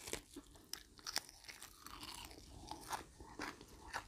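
Close, crunchy chewing of Isan food eaten with sticky rice, with irregular bites and soft mouth sounds repeating over a few seconds, no talking.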